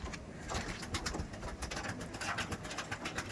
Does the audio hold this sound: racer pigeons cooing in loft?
yes